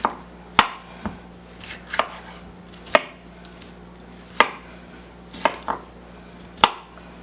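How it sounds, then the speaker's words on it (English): Half of a large bell pepper is chopped into chunks with a knife on a cutting board, giving sharp, irregular thuds spaced about a second apart, close and clear with no talking. "We're just going to chop it up in chunks."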